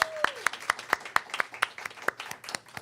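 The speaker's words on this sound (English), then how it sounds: "Let's give another round of applause for Brother Mark." Sparse applause from a small audience for a church speaker, a few people clapping in a loose, uneven rhythm of distinct claps, fairly faint and without talk.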